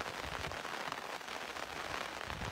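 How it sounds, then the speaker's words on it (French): Rain patters steadily on an umbrella outdoors in the mountains on a cool evening, a dense, continuous close-up drumming with no voices. "On entend la pluie sur ton parapluie, me dit Lélie"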